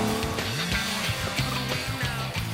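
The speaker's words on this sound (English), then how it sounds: "along with the sound of that engine, you can never forget you're in a TVR." A TVR Tamora sports car engine revs and growls continuously, pitch rising and falling through gear changes, loud and close.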